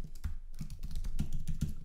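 Computer keyboard typing in an irregular run of clicky keystrokes, close and moderately loud, set in a coding session with no talking.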